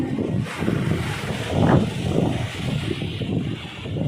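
Wind roars and buffets the microphone continuously at moderate loudness, with a brief stronger gust midway.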